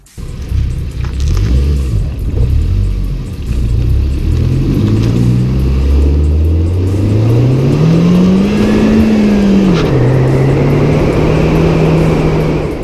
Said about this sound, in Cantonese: Civic 咧第一次配 Turbo 引擎啦